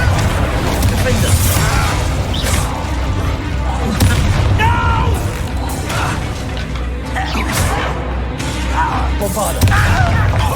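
Bombarda explosion spells blast repeatedly during a Hogwarts Legacy battle, with dense, loud booms and crashes stacked over continuous combat noise and voices.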